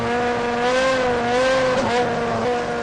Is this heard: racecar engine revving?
yes